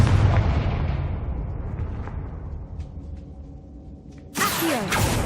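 A Confringo fire spell explodes in Hogwarts Legacy with a loud boom that rumbles and fades over several seconds, followed by a second sharp blast near the end.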